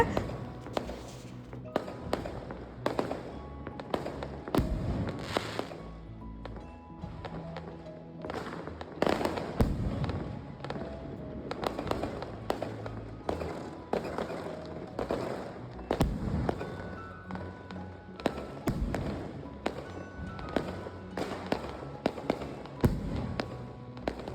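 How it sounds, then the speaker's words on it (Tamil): Firecrackers and fireworks burst repeatedly all around a street during Chinese New Year, sharp cracks and booming pops coming in rapid irregular clusters, some near and some farther off. "எல்லா பக்கமும் வெடிச்சிட்ருக்காங்க ரொம்ப பயங்கரமாக ரொம்ப பெரிய பெரிய வெடியாக வெடிச்சிட்ருக்கு"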